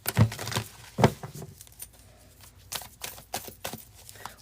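A deck of tarot cards given a quick shuffle, a few crisp riffling bursts up close with soft papery slides and taps in between.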